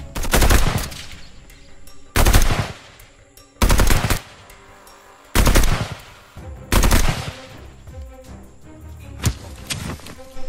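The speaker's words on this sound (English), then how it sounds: "At least put some shots down range." Gunshots fired down range in a boot camp movie scene: five or six loud, sharp bursts of rapid automatic fire spaced a couple of seconds apart, with quieter rattling and echo between them.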